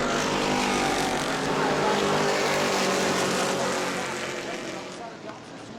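Race cars roar together through the final lap of a short-track oval race at New Smyrna, a dense, steady engine drone that fades slightly near the end, with an announcer talking over it.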